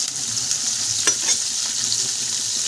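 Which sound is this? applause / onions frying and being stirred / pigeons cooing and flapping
onions frying and being stirred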